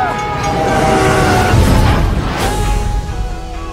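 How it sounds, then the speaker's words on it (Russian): A train rumbles past loudly with a sustained horn blast, heavy and continuous throughout, amid a frantic scene from a comedy film trailer. "Да сраный поезд!"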